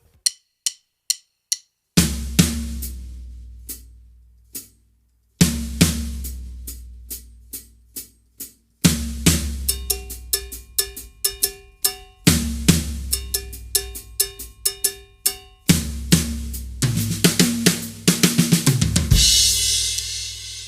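A drum kit plays a moderate-tempo drum intro. It opens with sparse clicks, then adds kick hits and steady cymbal or cowbell strokes, building into fuller patterns with a crash.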